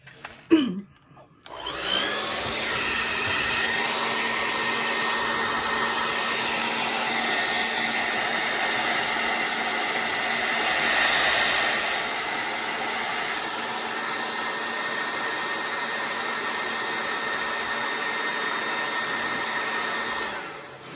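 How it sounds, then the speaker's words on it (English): A hair dryer blow-drying alcohol ink switches on after a short pause and runs as a loud, steady whirring blast for the rest of the time, with a slight swell midway. "for the sake of time today, I'm going to try to blow dry it"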